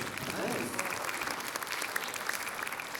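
An audience claps at a conference session, a fairly quiet, steady round of applause that holds evenly throughout, with a voice briefly heard near the start.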